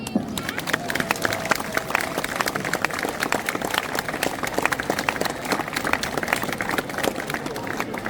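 An outdoor crowd at a theatre performance inside a citadel, staged by the united guilds, applauds the performers. Steady, dense clapping runs for the whole stretch with no break.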